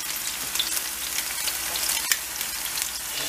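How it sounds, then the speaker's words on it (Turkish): Meat and peppers fry in very hot oil in a pan, a loud, steady, close hiss and sizzle with faint stirring clicks and one sharp tap near the middle. "Zaten yağımız çok kızgın olduğu için biberlerimiz çok çabuk pişti."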